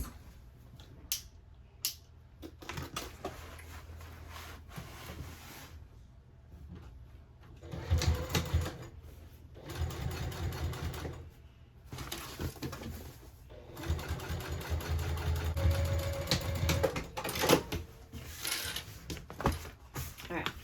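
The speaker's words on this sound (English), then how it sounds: "fold this back and top stitch on the bottom piece" A sewing machine runs in several bursts while top stitching a tote bag. Each run is a fast, steady mechanical whir, separated by pauses and handling noises, and a voice speaks between some of the runs.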